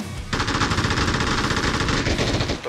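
Rapid sustained automatic gunfire from the video game PUBG, a loud continuous rattle of shots lasting a couple of seconds, close and dominant.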